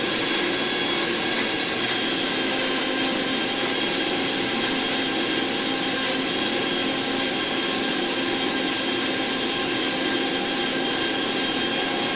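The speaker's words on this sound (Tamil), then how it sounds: "அது நம்ம வெங்காயமும் பச்சை மாங்காயம் கூட சேர்த்து அரைச்சிக்கலாம்." A mixer grinder runs continuously, grinding onion and raw green mango together into a chutney. It gives a steady, loud, dense whir that holds even for the full stretch with no pauses and no voices.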